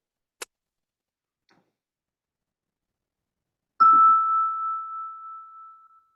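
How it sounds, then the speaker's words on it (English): A church bell struck once to open a Unitarian Universalist service, a single clear ring that hangs and slowly fades over a couple of seconds after a faint tap and near silence. "ring our bell to start the service"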